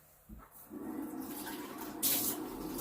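Tap water runs steadily into a cup while a vegan ranch dressing is being made at home, a soft continuous splashing stream that starts after a brief clatter and grows slightly brighter toward the end.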